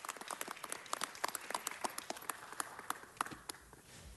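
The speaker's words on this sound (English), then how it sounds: "Let's give a big warm round of applause to José Alfredo Jiménez Jr." Scattered applause from an audience at a Los Angeles city council meeting, a moderate, uneven patter of individual claps that thins out toward the end, heard at some distance in a large room.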